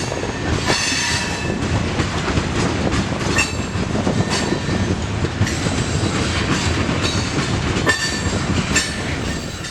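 Freight train rolling past on a railroad line, loud and continuous, with rhythmic clickety-clack of wheels over rail joints and occasional metallic squeals, close by.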